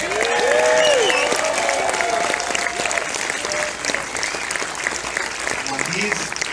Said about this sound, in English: Please keep your applause and cheers going.